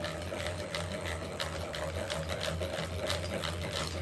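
The gears of a hand-crank butter churn turn with a steady, smooth whirring and a faint regular clicking rhythm, heard close and continuous without talk.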